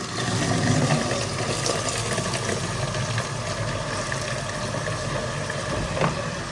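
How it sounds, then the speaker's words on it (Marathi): Filtered water from a filter plant pours steadily into plastic drums, a dense continuous rushing and splashing with a pump-like hum underneath, close and fairly loud, with no talk. "हे जे ड्रम्स आहेत आपल्याला पाण्याने भरायचे आहेत"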